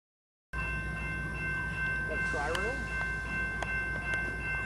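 A northbound SunRail commuter train rumbling past in Sanford with a steady low roar, clacking wheels and brief tonal squeals; a voice speaks briefly over it.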